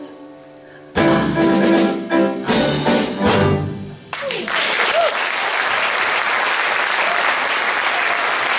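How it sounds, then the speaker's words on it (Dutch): Audience applause at a Dutch poetry reading after a poem recital, breaking out loudly after a quiet moment, surging in bursts, then settling into a steady dense wash of clapping with some crowd noise. "Applaus voor Valentijn Ouwens"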